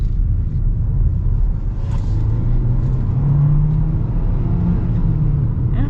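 A 2025 Hyundai Kona turbo in sport mode accelerating on dry pavement, heard from inside as a steady low engine and road rumble with a faint rising drone and no talk.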